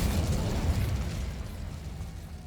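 Magical spell blast from Hogwarts Legacy, a heavy booming explosion with a rumbling low burst that decays over a couple of seconds, loud and close with no talking.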